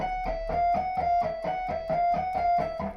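Electric guitar picking a repeating three-note pattern, steady even plucks at a moderate pace, clean tone with no voices.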